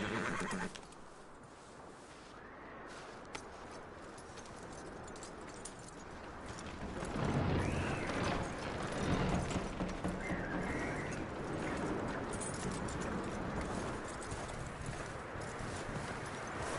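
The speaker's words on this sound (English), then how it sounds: "That looks like a decent horse." A horse whinnies loudly and its hooves clip-clop steadily on the ground, close by and continuous throughout, with no talking over it.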